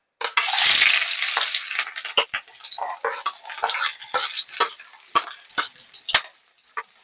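Onion and ginger hit hot oil with a loud, dense sizzle that fades after about two seconds into quieter crackling and a series of sharp stirring scrapes and clicks, close by.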